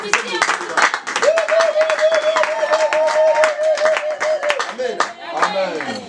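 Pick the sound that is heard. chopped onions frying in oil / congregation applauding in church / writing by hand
congregation applauding in church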